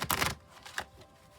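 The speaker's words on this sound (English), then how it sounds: "I will shuffle till it feels like the deck is ready" A tarot card deck is shuffled by hand, giving a close riffling burst followed by a shorter flutter of cards, with no talk.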